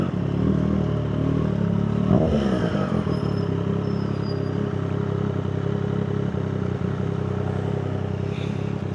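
A Triumph 765 R motorcycle rides through Makati city traffic, its engine a steady close drone with a brief rising rev near the start, surrounded by constant traffic rumble.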